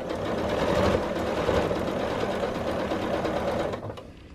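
A sewing machine stitching a quilt seam runs close and steady with a fast mechanical whir, then slows and stops near the end.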